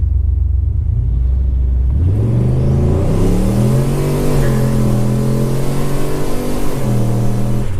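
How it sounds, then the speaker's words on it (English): A turbocharged 2012 Chevy Caprice engine revs up hard from a dead stop, climbing steeply in pitch through the gears with a loud, rising roar. "I'm gonna punch it from a dead stop."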